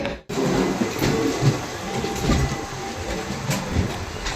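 A train in a train simulator game runs steadily with a continuous rumbling, rattling roar of wheels on track, close and loud, with no voices.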